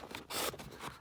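Scissors cut out small paper postage stamp pieces for a Christmas junk journal, giving a short burst of crisp snipping and rustling paper, close and fairly quiet, with no talk.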